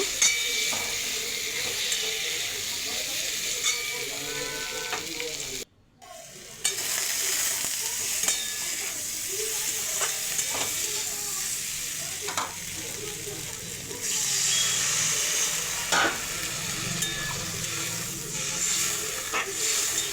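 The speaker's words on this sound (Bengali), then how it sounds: "এবারে ভেজে রাখা আলুগুলোকে আমি দিয়ে দেবো, দিয়ে আবার একটু নাড়িয়ে চাড়িয়ে নেব" Fried potatoes tossed into a spice masala sizzle steadily in hot oil with repeated stirring scrapes, a brief pause partway through, then a louder hiss for the rest.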